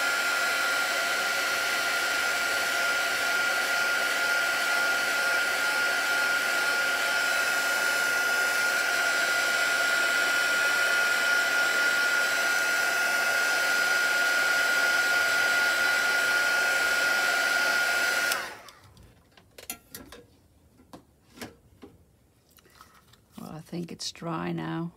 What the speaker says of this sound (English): I dry it with my heat tool.